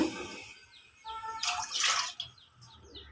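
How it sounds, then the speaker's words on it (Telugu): Water splashes and trickles in a short burst midway, poured from a cup into a pot, with faint bird chirps in the background. "అదే కప్పుతో వాటర్ పోసుకుంటున్నాను"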